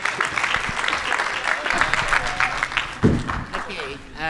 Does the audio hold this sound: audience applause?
yes